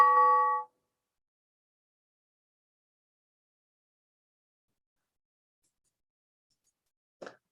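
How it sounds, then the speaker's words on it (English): A single bell strike rings out clearly and decays within a second, followed by long silence and a faint short tap at the end. "Now, did you hear that bell sound?"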